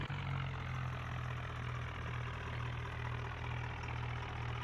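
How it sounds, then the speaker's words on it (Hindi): A tractor engine idles steadily in an Indian farming video game, a low continuous rumble that holds even and moderately loud throughout with no voices. "हम ट्रैक्टर लेकर खेत के लिए रवाना हुए और मैंने रामू को ट्रैक्टर पर बैठने को बोला"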